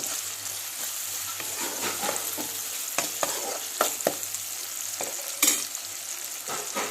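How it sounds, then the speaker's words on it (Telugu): Bitter gourd and chana dal fry with curry leaves over medium flame, a continuous close sizzle broken by repeated scraping stirs and a few louder knocks of the spoon. "దీన్ని ఇప్పుడు మీడియం ఫ్లేమ్ మీద వేయించుకోండి."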